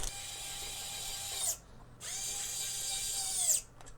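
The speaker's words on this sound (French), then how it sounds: "Donc je vais sortir mes vis et commencer à visser." An electric screwdriver drives screws into a gaming PC case during assembly, two sustained whirring runs of about a second and a half each with a brief pause between and clicks as each stops.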